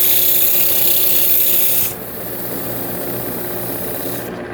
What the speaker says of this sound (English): So that's going to get sanded.